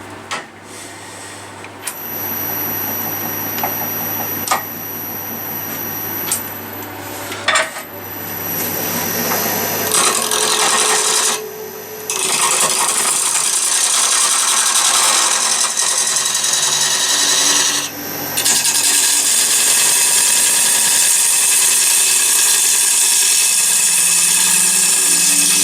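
A lathe faces the end of a resin and wood lamp body held with the tailstock, giving a steady machine whir with shifting scraping tones as the cut varies, close and loud throughout.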